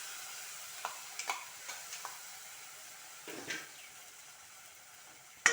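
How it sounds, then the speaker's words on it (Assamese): Tomatoes with turmeric stirred in a frying pan, faint intermittent scraping strokes of a spatula over a soft background hiss, ending in a sudden louder clank. "ভালকৈ লৰাই ল'ম।"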